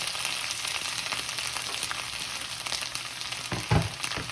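Onions, curry leaves and green chillies fry in a pan with a dense, steady sizzle, a louder crackling burst near the end as the chilli and leaves hit the oil.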